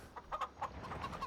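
Chickens clucking in the farming video game Farming Simulator 25, a run of soft, close clucks in an irregular rhythm over a faint background, with no voices.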